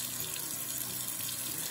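Tap water runs steadily into a sink while a paintbrush is rinsed under it, a continuous close splashing rush with no pauses and no voices.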